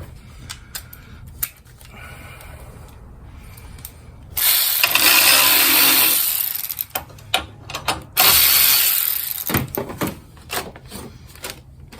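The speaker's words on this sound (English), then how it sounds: "So let me loosen the battery up so I can move it a little bit." Ratchet wrench loosening the battery hold-down on a Nissan car, quick clicking ratchet strokes in two loud bursts between quieter taps and handling noises.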